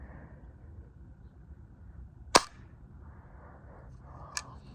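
A toy noise gun from the Daisy pop and noise gun range fires once with a single sharp crack. A fainter snap follows about two seconds later, both over a low steady background hum, with no talking.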